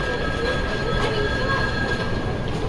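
A metro train rolls along with a steady loud rumble of wheels and a faint high squeal, heard from on board with no talking.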